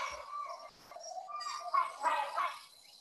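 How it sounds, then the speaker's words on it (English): A hornbill, a very loud and noisy bird, gives a series of harsh, honking, tonal calls that rise and fall in short bursts, standing out clearly against a quiet background. "like this is a hornbill, a very loud and noisy bird"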